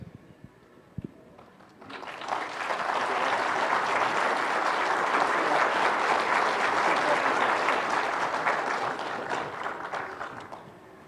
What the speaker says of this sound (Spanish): Con fuertes aplausos una vez más.